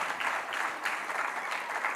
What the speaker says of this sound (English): so a resounding round of applause for her.